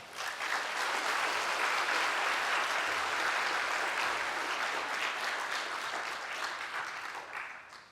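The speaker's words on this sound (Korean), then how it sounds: "뜨거운 박수로 맞이해 주시기 바랍니다." Sustained church congregation applause, a dense steady clapping from a large crowd that holds for several seconds before tapering slightly.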